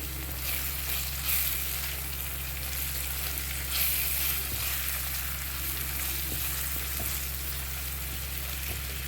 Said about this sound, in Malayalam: ഇനി നമുക്കിതൊന്ന് ഇളക്കി കൊടുക്കാം മിക്സ് ചെയ്യാം